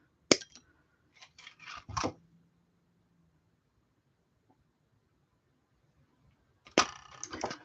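Gold wire 1mm thick snipped with cutters at a workbench: a sharp click, then several quick clipping snaps about a second later, and another burst of snips after a quiet pause.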